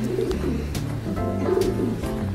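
A pigeon coos close by, low throaty notes repeating in soft rhythmic phrases over light background noise, with no speech.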